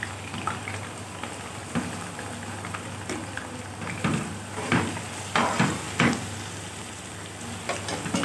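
Onions dropped into hot oil in a home kitchen pan sizzle and crackle steadily, with louder bursts of frying and stirring scrapes rising and falling over about eight seconds, close up and with no talking.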